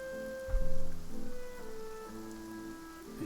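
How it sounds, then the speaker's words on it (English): Steady rain falls in the video game Genshin Impact, a soft even patter on surfaces under a low musical drone, with no talking. "And it's raining again."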